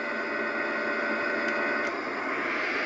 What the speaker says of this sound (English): And now we've moved on to white noise.